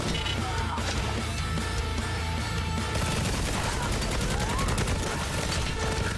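Rapid bursts of gunfire from a gun in the shooter game Necromunda: Hired Gun, loud and sustained over heavy music with a dense, clattering texture.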